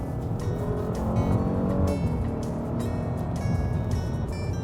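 An Acura RLX Sport Hybrid sedan with a roughly 315-horsepower engine and three electric motors accelerates hard, its engine note swelling steadily and loudly, with faint tire noise for nearly five seconds and no voices.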